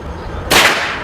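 A single sharp air rifle shot from a 1400fps MH generation 2 project gun, loud and close, with a brief crack and a short decaying tail after quiet background.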